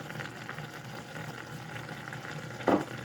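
A pound of hamburger meat seasoned with onion powder and garlic powder fries in a pan with a steady, close sizzle and one brief louder crackle near the end; no one speaks.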